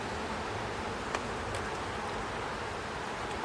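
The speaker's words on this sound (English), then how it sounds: "bees are going to start getting a little agitated, because when it rains, they are generally not too happy" Agitated honeybees at a hive as rain arrives and foragers crowd back in, a dense, continuous buzzing drone heard up close with faint rustling, loud and unbroken, with no talking.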